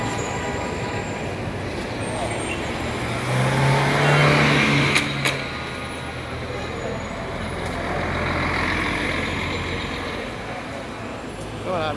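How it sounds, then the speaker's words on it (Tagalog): Road traffic rumbles through the Batha district of Riyadh, Saudi Arabia, with a steady wash of passing cars and trucks, one heavier vehicle swelling nearby midway and a brief brake hiss. "Traffic, oh."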